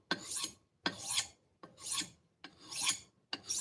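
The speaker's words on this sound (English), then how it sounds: "Sort of a prelim sharpen, see if we like the contours of the blade." A blade is sharpened with a file in five even, rasping strokes at a steady rhythm, each a gritty scrape with short pauses between, close up and alone.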